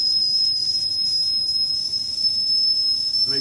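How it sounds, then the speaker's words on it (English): Steam hisses steadily from an engine, a continuous high whistling tone over a low mechanical rumble that stays constant throughout. "Hear the steam right here?"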